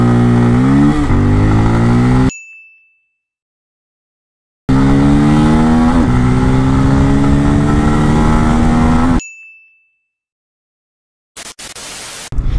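A Bajaj Pulsar N250 motorcycle accelerates hard from standstill toward 100 km/h, its engine note climbing through gears in loud close bursts, with cut-offs into silence between runs and a brief rush of wind noise at the end.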